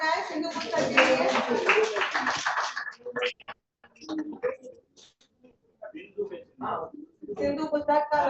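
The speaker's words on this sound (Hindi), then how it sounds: "तालियां बजाए सिंधु पुस्तक के लिए।" Audience applause greets a book launch at a golden jubilee ceremony of the Nagari Lipi Parishad, dense and fairly loud for about three seconds before breaking off into someone speaking with scattered pauses.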